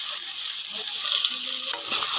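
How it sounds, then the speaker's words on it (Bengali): Potatoes frying in oil in a kadai give off a steady, close sizzle, with a soft stirring scrape near the end and no talking. "আলুটা ভেজে নেব"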